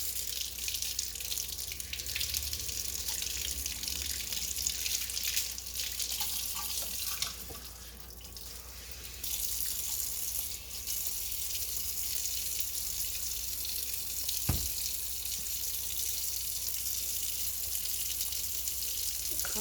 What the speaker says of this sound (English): So, all right, let me wash my hair.